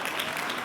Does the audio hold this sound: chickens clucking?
no